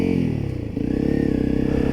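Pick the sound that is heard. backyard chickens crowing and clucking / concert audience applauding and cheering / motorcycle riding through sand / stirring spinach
motorcycle riding through sand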